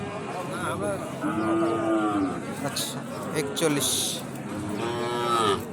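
Cattle low repeatedly at a busy livestock market, several drawn-out moos rising over crowd chatter and bargaining voices, with people talking nearby throughout.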